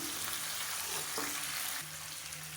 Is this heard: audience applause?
no